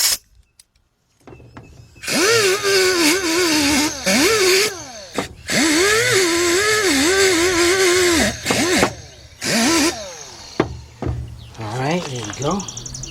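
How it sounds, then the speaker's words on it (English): A small wire wheel on a power tool scrubs the EGR port of a Suzuki XL-7 intake manifold, whirring loudly in long bursts with brief pauses and pitch dips as it bites into the metal, and speech comes through faintly in places. "wire wheel right here"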